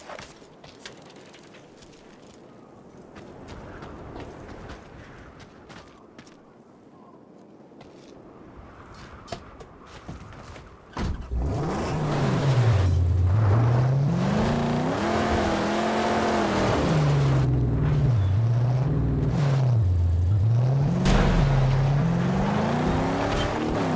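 A car engine in the Mad Max game starts faint and distant under rumbling ambience, then roars up abruptly partway through and revs in repeated rising and falling sweeps, loud and close, with no talking.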